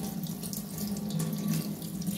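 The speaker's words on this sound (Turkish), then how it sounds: "3-4 su akıttım, yıkadım." Tap water runs steadily into a sink while freshly cut anchovies are washed, a continuous close splashing stream with no talk.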